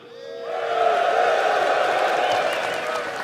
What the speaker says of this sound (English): this is where you're all going to cheer